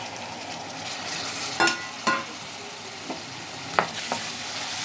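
Tomatoes going into a pan where eggs and potatoes are already frying, giving a steady soft sizzle broken by a few sharp clinks and scrapes of stirring, close by and with no talking.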